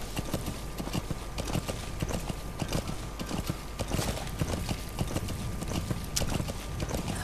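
Horse hooves gallop in a steady, continuous clip-clop rhythm within the Metal Gear Solid 5: The Phantom Pain video game, loud and close, with game ambience underneath and no talk.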